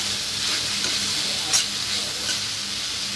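Onion, tomato and chilli sizzle steadily in a frying pan while being stirred, giving a constant broadband hiss with a few soft scraping stirs and no talking.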